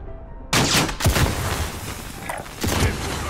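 Bursts of gunfire in a first-person shooter match with a sniper firing from a rooftop, loud sharp shots in a quick volley near the start and another cluster later, over continuous game ambience with no clear voices.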